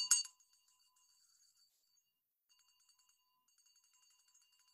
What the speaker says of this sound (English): I was having trouble ringing the freedom bell for some reason today.